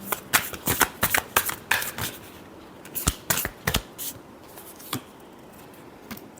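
Tarot cards are shuffled by hand close by in a fast series of crisp riffling flutters and slaps, which thin out to a few isolated taps near the end.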